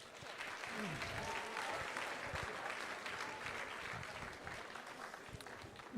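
Sustained applause from an audience at a school music department fundraiser, steady clapping that holds for several seconds at a moderate distance.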